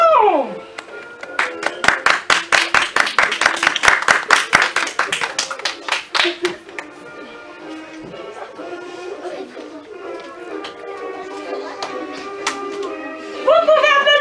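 A school theatre audience claps steadily for a children's show, the dense applause swelling for several seconds, then thinning into scattered claps beneath a voice and music.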